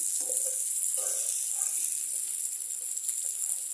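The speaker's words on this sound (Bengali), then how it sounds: "একই তেলে ভাজলাম যাতে বেশি তেল খরচ না করি" Hilsa fish frying in oil gives a steady bright sizzle throughout, with a few faint clinks and scrapes of lifting the pieces out underneath.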